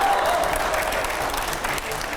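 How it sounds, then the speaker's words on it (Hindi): A studio audience at a live Hindi TV interview show bursts into loud, dense applause, continuous and close for the full couple of seconds. "अब आप जोरदार तालियों से अगले सवाल का स्वागत करिए"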